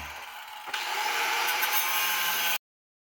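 A power tool cuts out a rivet on the rear spring shackle of an M715 truck, starting abruptly with a steady harsh grinding whine that runs for about two seconds and then stops dead.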